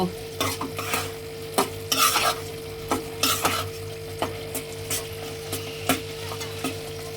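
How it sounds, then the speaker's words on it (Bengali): Spoon stirring pui shak (Malabar spinach) with shrimp in a frying pan, with a soft sizzle underneath and a steady series of scraping strokes against the pan, close and clear with no talking. "এখন নাড়া দেব।"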